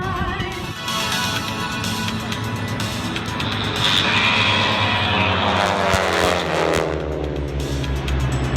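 White T6 aircraft of the AeroShell Aerobatic team circle at an airshow, their propeller engines droning loudly and continuously with a rising and falling pitch as they pass nearby.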